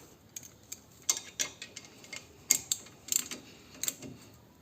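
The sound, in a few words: tightening the brake caliper screw on a Renault Megane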